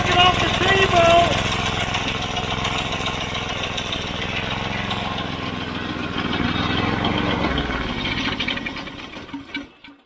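An old Tecumseh go-kart engine runs steadily close by with a rough, buzzing drone that rises slightly in pace midway before cutting out and sputtering to a stop at the end.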